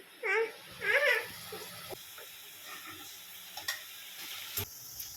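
Egg sizzles in a pan for egg rice in a home kitchen, a soft steady hiss with scraping stir strokes and a few clinks. A brief voice-like sound is heard near the start.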